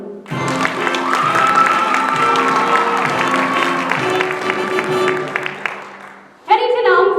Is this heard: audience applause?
yes